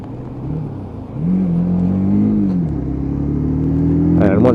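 A UM Commando Classic motorcycle pulling away, its engine note dropping and then rising steadily as it accelerates through the gears, with loud wind and road rumble throughout.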